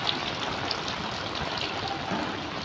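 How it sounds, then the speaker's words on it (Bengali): Heavy rain pours steadily onto a flooded rooftop, a dense, even wash of splashing water with scattered nearby drips and no voices. "কিছুক্ষণ পর পর অনেক জোরে বৃষ্টি হচ্ছে, ছাদে পানি জমে গেছে।"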